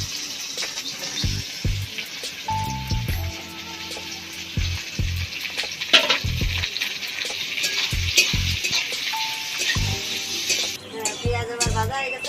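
Onions for chicken biryani fry in oil with a continuous crackling sizzle, while repeated spatula scrapes and clanks against the pan sound close by.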